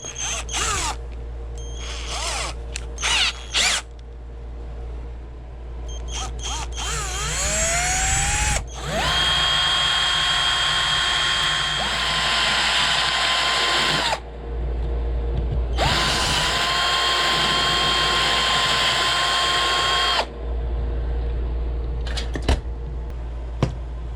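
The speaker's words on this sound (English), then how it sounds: "Just find a drill that's a bit that's about that size. Alright, this 3/16 bit should do the job." A power drill with a 3/16 bit bores into metal while building a motorized bike, with short trigger bursts, then two long, loud, whining drilling runs broken by a brief pause.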